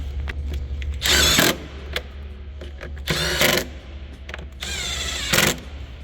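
Power tool driving a bolt to secure the engine air filter cover on a 2022-2024 Acura MDX or Honda Pilot, running in three short, loud, close bursts separated by brief pauses.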